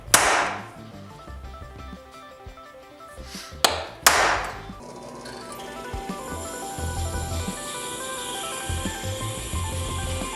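A hammer strikes a metal punch to mark steel for a forged chef's knife: three sharp, ringing hits, close and loud. A steady roar from a running forge follows.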